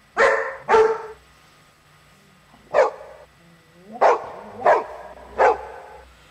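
A human voice imitates a small dog barking, giving six short yappy barks in irregular bursts, two quick ones, then a pause, then four more spaced out, close and clear with no other sound.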